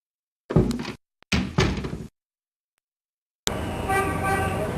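A door in the Gabriel Knight: Sins of the Fathers adventure game opens with a short burst of thumps and rattles, followed by a pause and then a steady, fairly loud ambient tone as the next scene begins.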